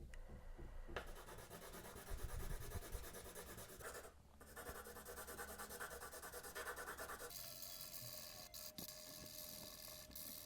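Fairly dark B3 graphite pencil rubbed steadily over the lines on the back of a sheet of watercolor paper, a continuous close scratchy shading that pauses briefly midway and then resumes with a slightly different texture.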